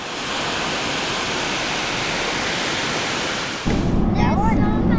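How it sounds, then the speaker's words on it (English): Bridal Veil Falls near Valdez, Alaska, a good-sized waterfall, roars as a loud steady wash of rushing water, then cuts to a rumbling closer noise with a voice at the end. "Pretty good sized falls."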